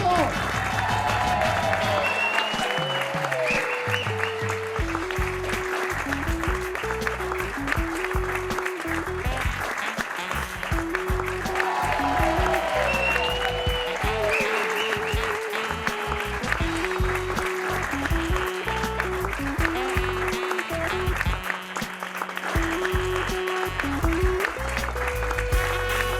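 Applause for a performer at an event in La Verdellada, La Laguna, a steady crowd clapping that continues throughout, with a voice on a loudspeaker and music heard over it.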